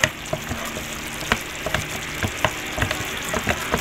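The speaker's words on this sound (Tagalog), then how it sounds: "Ilulog na natin itong dahon ng malunggay." Moringa leaves hit a hot pan of simmering vegetables and sizzle steadily up close, with scattered stirring clatters and bursts of frying crackle, no voices.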